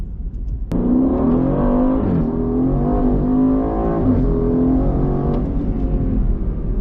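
Aston Martin Vantage F1 Edition with a Quicksilver exhaust accelerating hard through the gears, a loud, close engine howl rising in pitch, dipping at each shift, then climbing again.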